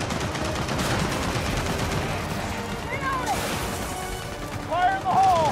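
Grenade blasts and rapid gunfire from Gears of War 4 on PC, a dense, continuous barrage of shots and explosions with a swelling rumble near the end, loud, with voices from the game over it.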